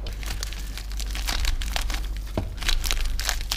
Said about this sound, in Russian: давайте я помотаю вот эти вот полиэтиленчики